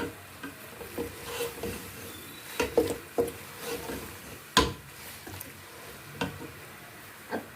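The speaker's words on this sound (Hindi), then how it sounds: "और इसको हमने अच्छे से मिक्स कर लेना है।" A spoon stirring okra qorma in a pan over a low sizzle, with soft irregular scrapes and knocks against the metal.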